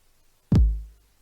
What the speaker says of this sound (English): this will give us the flammed bass drum